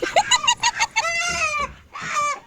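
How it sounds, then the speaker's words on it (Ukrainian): A rooster clucks in a string of short, close calls, then gives a longer drawn-out squawk and another call; no talking. "Давай погладимо півня."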